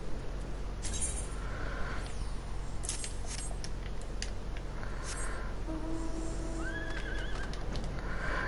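A flying ice horse mount neighs in a quiet Final Fantasy XIV setting on PS4, its whinny rising and falling, with scattered light chimes and clicks around it.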